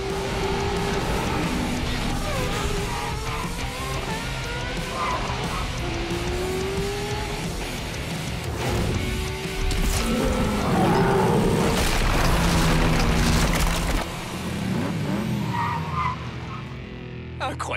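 Cartoon racing cars from Hot Wheels City speed past with revving engines and repeated tire squeals and skids, loud and busy, with brief voices mixed in.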